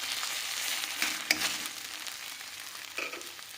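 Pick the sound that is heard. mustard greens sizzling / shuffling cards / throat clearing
mustard greens sizzling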